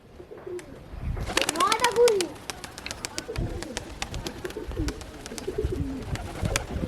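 Pigeons coo in a cluster with sharp wing claps and flutters as birds take off and land nearby, amid outdoor background noise.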